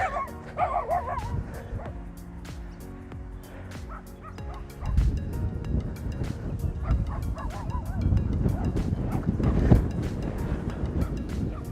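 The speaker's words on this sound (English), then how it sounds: "We got the guard dog over here." A guard dog barks repeatedly nearby in sharp, irregular bursts, mixed with honking geese and outdoor noise at a disc golf field.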